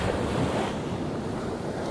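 Atlantic Ocean waves surging and breaking around someone wading from a beach, a steady loud wash of surf with wind buffeting the microphone throughout, no talking.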